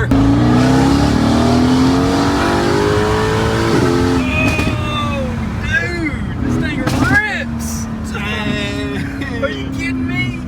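A Mercedes-AMG GT S turbo engine revs and accelerates hard, a loud rising engine roar that climbs in pitch, then fades into repeated whines and gear changes, with people talking over it.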